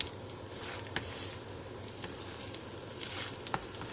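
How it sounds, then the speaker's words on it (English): Keema paratha cooks in a little oil on a pan with a soft, continuous sizzle and scattered small pops and crackles, close and fairly quiet with no voices. "Add little oil. Cook on each side for a minute."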